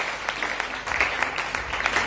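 A church congregation applauds during a sermon, steady scattered clapping at moderate volume with no voice over it.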